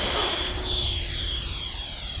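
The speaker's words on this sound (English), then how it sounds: "We're taxiing, we're second in line for takeoff." Loud, steady roar of an airliner's jet engines spooling up for takeoff, heard from inside the cabin with a rising whine layered over a constant rumble.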